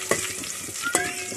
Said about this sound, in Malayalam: ഒരു മൂന്ന് നാല് വറ്റൽമുളക് ഞാൻ എടുത്തിട്ടുണ്ട് ജസ്റ്റ് ഒന്ന് അങ്ങനെ വഴറ്റി കൊടുക്കാം